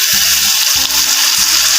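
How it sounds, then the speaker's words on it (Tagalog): Water poured into a hot pan while cooking pansit bato sizzles with a loud, steady hiss, broken by a low rhythmic bubbling or pulsing that repeats three times across the clip, close and without talking. "lalagyan natin siya ng konting tubig para pag nilagay natin yung pansit bato ay maluluto siya agad"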